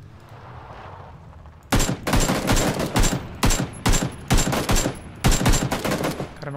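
Gunfire in the PUBG Battlegrounds video game, a rapid burst series of loud sharp shots after a quiet lead-in, firing in clustered volleys for several seconds.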